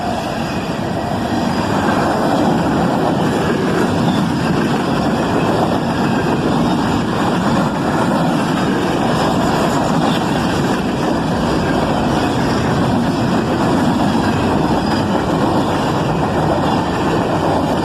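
A southbound freight train running from Dayton to Cincinnati passes close by, hauled by a multi-locomotive lashup, with a loud, steady rumble and rolling wheel noise continuing without a break.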